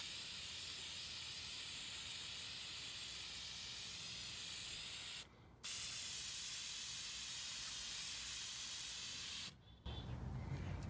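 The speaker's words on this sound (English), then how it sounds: "I'm just going to spray these gold front and back" Steady, loud hiss of a can of gold spray paint spraying continuously, broken by two brief pauses before resuming.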